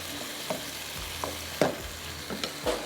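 Chicken mince for qeema methi fries with ginger garlic paste, cumin, black pepper, salt, turmeric and ground coriander, a soft, steady sizzle punctuated by several spaced spatula knocks and scrapes against the pan.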